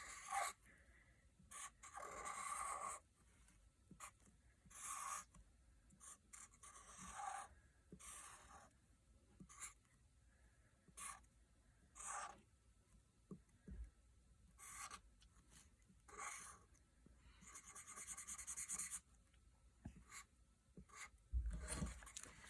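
Pencil or pen drawing a person on paper at a desk, giving soft scratchy strokes in short irregular bursts separated by quiet gaps, close and faint.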